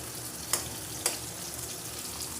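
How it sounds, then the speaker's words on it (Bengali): Bori lentil dumplings fry in a pan with a faint, steady crackling hiss, broken by two sharp ticks close together early on. No one speaks. "দেখো বড়িগুলো চাপা দিয়ে দিয়েছি এর মধ্যে থেকে থেকে কী হবে বলতো বন্ধুরা ভাজা ভাজা হয়ে যাবে"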